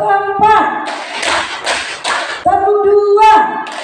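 A group claps hands in a counted clapping game, with bursts of sharp, rhythmic claps in quick sets, alternating with a leader's voice calling out the counts.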